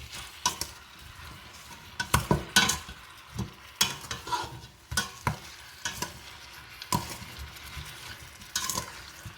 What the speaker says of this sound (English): Keep stirring it till it is stuffed.